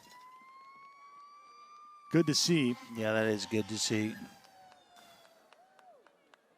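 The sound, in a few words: siren in the distance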